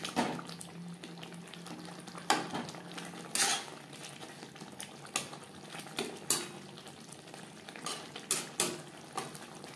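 A utensil stirs boal fish curry with potatoes in a pot, giving scattered clinks and scrapes against the metal over a quiet simmering background, close by with no talk.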